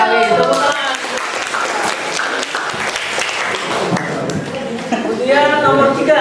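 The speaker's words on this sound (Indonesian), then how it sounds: "Tepuk tangan" Students in a classroom applaud together after a correct answer in a civics lesson, a burst of mixed clapping with voices chattering at the start and end.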